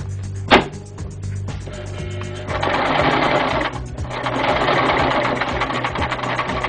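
A sewing machine stitches fabric in short runs, its rapid mechanical whirr starting and stopping close by, with a sharp knock near the start and a longer continuous run later.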